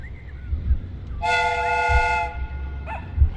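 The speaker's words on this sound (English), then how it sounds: "The steam whistle is ready to be used." A steam whistle from a replica train in Sherlock Holmes: Crimes and Punishments blows one loud, steady harmonic blast of about a second over low rumbling, followed by a brief faint chirp.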